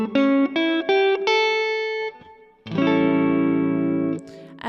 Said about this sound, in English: A dominant 7 arpeggio, it's gonna sound like this.